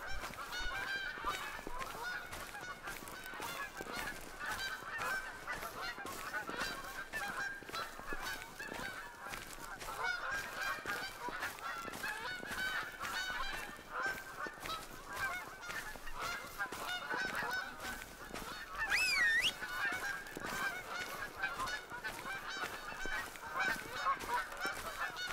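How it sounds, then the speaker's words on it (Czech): Geese in the hunting game The Hunter: Call of the Wild honk repeatedly in an irregular flock chorus over a continuous ambient bed, moderately loud and without talk. "Co ty husy tady? Můžou lítat v noci"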